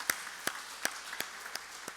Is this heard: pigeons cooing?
no